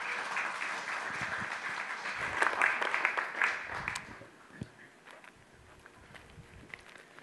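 Audience applause welcoming a speaker to a church-style online gathering, a dense patter of many hands that swells for about four seconds and then fades to scattered claps and room noise.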